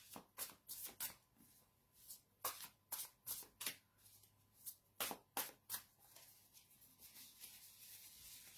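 Cards are riffled and shuffled in quick, repeated bursts, crisp and close, with short pauses between shuffles.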